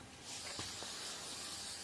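A can of 3M adhesive spray hisses onto fabric during panel upholstery work. The spray starts abruptly and runs as one continuous close, steady hiss to the end.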